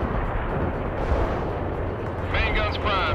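Artillery fire in the World in Conflict video game, a dense, loud rumbling barrage of booms and blasts filling the short stretch without pause, with a brief radio-style voice line layered over it.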